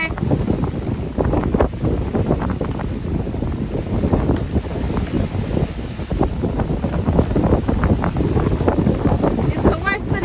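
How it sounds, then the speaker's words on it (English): Strong westerly wind buffets a sailboat off La Linea near Gibraltar, a constant roaring rush of wind and water with gusty crackles against the microphone throughout, no voices. "It's a westerly wind today, and we're heading east"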